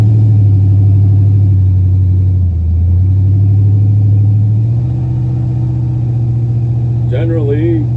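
A car engine running on a stock GM computer idles with a steady low rumble, then stumbles and sags as if about to stall, with a brief voice near the end.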